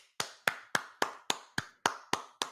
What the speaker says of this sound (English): Let's give a hand clap for that judge.